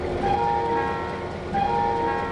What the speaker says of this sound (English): Oh, that's that other train moving out there making that noise. I heard flange squeal.